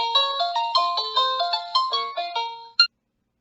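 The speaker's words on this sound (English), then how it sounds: "So that's for Elise by Beethoven, I believe." Für Elise by Beethoven rings out as a bright electronic phone ringtone, a quick melodic run of beeping notes that repeats rhythmically, close and clear, then cuts off abruptly.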